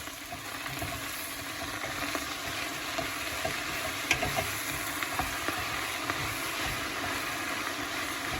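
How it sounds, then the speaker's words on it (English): Garlic in olive oil sizzling in a pan while being stirred, a continuous close hiss and crackle with occasional sharper pops, and no voices. "Now I'm going to stir this up"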